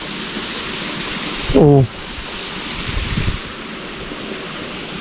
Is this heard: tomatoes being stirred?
no